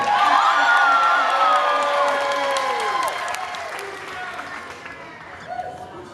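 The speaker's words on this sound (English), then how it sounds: "If you think the captain's cake looks the best, bigger applause for the captain." A cruise ship audience applauds and cheers for the captain's cake in a cake challenge, a dense burst of clapping with whoops that slowly fades, while a voice talks over it.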